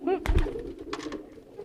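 A pigeon coos at close range, a short throaty rolling call followed by softer murmuring, loud and near.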